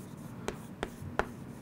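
Handwriting notes on paper, three quick soft pen strokes spaced evenly about a third of a second apart over a quiet low room hum.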